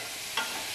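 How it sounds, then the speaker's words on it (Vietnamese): Small river fish frying in a pan in a rural kitchen, a steady dense hiss of sizzling oil throughout with one brief brighter crackle, close and continuous, no talking. "anh Mạnh cũng đang rán cá mương để ăn cá rán đó mọi người"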